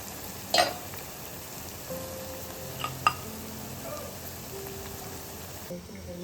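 Ginger is tipped into hot oil already tempering cardamom and cloves for a Telangana masala chicken fry. The oil gives a steady close sizzle, broken by a few sharp utensil clinks and stirring sounds.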